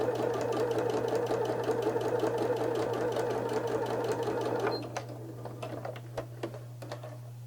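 A sewing machine top stitches a fabric double hem with a fast, steady mechanical whir and ticking, then stops, leaving quiet clicks over a low electrical hum.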